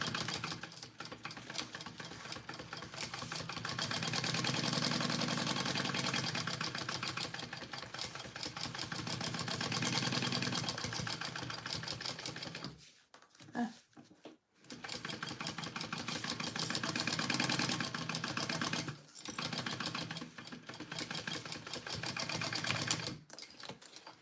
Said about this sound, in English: sew these 2 pieces straight on together, right sides out, basting